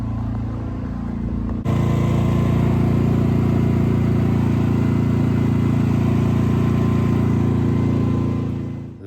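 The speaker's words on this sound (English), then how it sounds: "So finally, after 2 years, we get to use our gas and propane generator." A gas and propane generator runs steadily in rural British Columbia, starting with a sudden jump in level into a loud, constant mid-pitched engine drone with a strong hum, close by and unbroken to the end.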